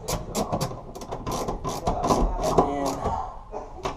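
Ratchet snugging bolts on a G-Force long shifter bracket in a Honda Civic, a close sequence of quick clicking strokes in uneven bursts, with faint talk in the background.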